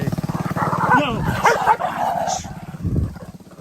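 A small dog barks a few times outdoors on a street in Barotac Viejo, Iloilo, Philippines, the yaps mixed in with someone talking close by.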